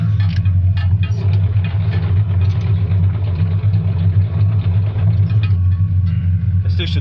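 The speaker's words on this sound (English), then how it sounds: "Let's do some dumper driving." A dumper's diesel engine runs steadily close by with a deep, throbbing rumble and a constant rattle on top, heard from the driver's seat.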